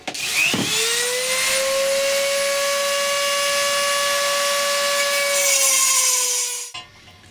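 A Dremel rotary tool cuts a part for a DIY ATV chainsaw mount, giving a close, loud, steady high-pitched whine that holds for about six seconds and then stops abruptly.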